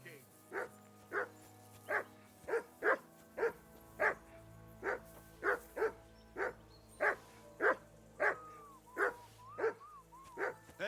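A dog barks repeatedly in Kingdom Come: Deliverance 2, about twenty evenly spaced sharp barks over a low background drone, with a voice briefly breaking in near the end.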